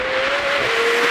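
A McLaren 765LT Spider engine holds a loud, steady high-pitched whine for about a second, its pitch dipping slightly, revving hard.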